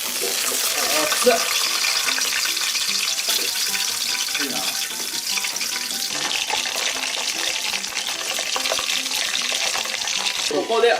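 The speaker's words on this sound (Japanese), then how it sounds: "ニンニク若干焦げ目つきましたら、さっきの石垣鯛を入れていきます" Ishigaki sea bream dropped into a pan with crushed garlic sets off a loud, dense, steady sizzle that runs without a break, close up, with a brief spoken exclamation over it.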